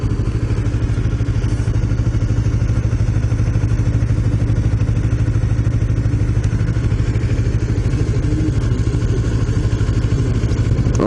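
A motorcycle rides through morning traffic in Phoenix, Arizona, its engine a loud, steady, close rumble with continuous rattly clatter and a slight shake, unbroken for the whole stretch with no voices.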